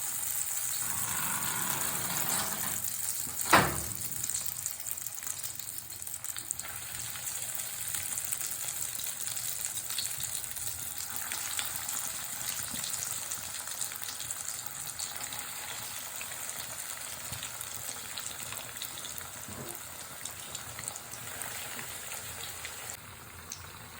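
Breaded sardine cutlets, dipped in egg and coated in bread, fry in a pan of oil. A steady, even sizzle with crackling holds throughout, and a brief louder spatter comes near the start.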